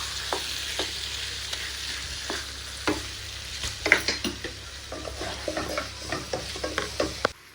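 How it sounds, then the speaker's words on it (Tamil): Food for a home-cooked meat feast being stirred in a frying pan, with a soft continuous sizzle under irregular scraping and clinking strokes of a utensil against the pan, close and fairly quiet. "சேர்த்து இது நல்லா நான் கிண்டி விட்டுருவேன்"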